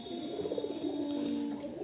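Soft, steady cooing of Giribaz pigeons in a loft, a low murmuring coo repeating close by over faint background hum, no talking.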